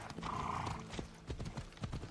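Galloping horse hooves in Assassin's Creed Odyssey, a steady rapid clip-clop close by with a brief whinny, mixed with game sounds and no talk.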